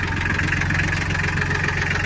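A Solis 26 compact tractor in good condition idles on a tractor lot in Zhytomyr, a steady low diesel rumble with a fine, even knock, loud and close throughout.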